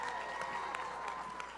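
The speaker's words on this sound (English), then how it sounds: "you deserve a great big round of applause" Audience applause at a charity dancing event in Columbus, a steady wash of clapping at moderate level that continues evenly throughout.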